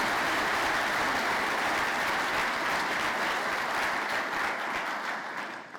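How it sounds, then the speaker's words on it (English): Sustained applause from an audience at a Shawn McKenna Presidents Academy event, a dense, steady wash of many hands clapping that continues throughout and tapers slightly toward the end. "please give them a round of applause"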